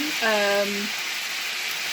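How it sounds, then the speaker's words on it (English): Stuffed peppers filled with minced meat frying in a pan, a constant bright sizzle throughout, with a brief voice sound near the start. "just let them fry, and you will see that they are frying up nicely"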